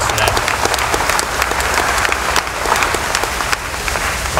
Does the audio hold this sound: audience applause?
yes